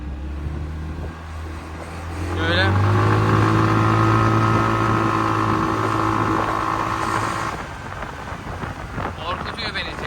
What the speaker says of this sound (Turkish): Bu motor 160 cc o kadar olacak ama sonuçta Çinli.